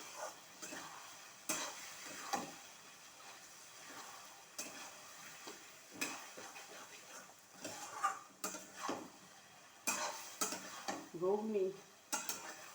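Peas and flour for ghugni are stirred and sautéed in a pan. A spoon scrapes and knocks against the metal in quiet, irregular strokes, with only a faint sizzle between them.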